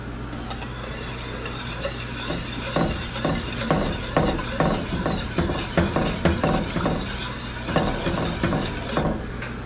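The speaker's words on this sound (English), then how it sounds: "There it goes, starting to come to a boil or to a bubble." Sauce in a pan for crab and lobster over cod heats to a boil, giving a steady sizzling hiss with frequent small pops and ticks of bubbling, close and continuous with no voices.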